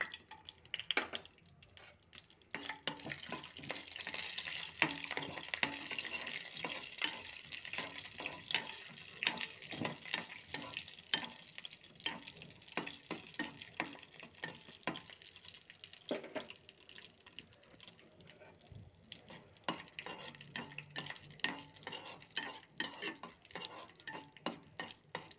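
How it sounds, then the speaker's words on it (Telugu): Cashews frying in hot ghee for semiya kesari, a continuous crackling sizzle broken by frequent scraping and stirring clicks of a utensil in the pan, close and moderately loud with no talking. "ముందుగా అయితే ఈ నెయ్యిలో డ్రై ఫ్రూట్స్ అయితే వేయించేద్దాం"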